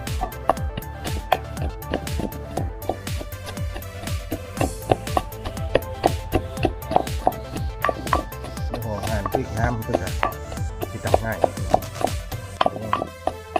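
Rapid knife chopping of herbs on a board while preparing fish bait for tilapia, a fast irregular run of sharp close taps continuing throughout with talk over it.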